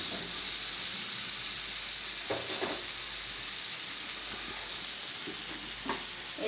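Food fries in a pan for a spinach curry, making a steady, close sizzle with occasional louder crackles and stirring scrapes, with no voices.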